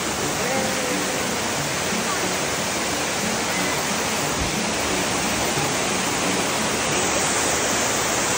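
Gabur-Gabur Falls in Peñablanca, Cagayan, roars as a loud, dense, unbroken rush of falling water, close by and steady throughout, with no clear voices standing out above it.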